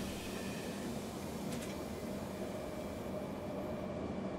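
Steady low rumble and hum of an S3 commuter train rolling into a station in Train Simulator 2018, a constant, moderately quiet drone with a brief faint chime partway through.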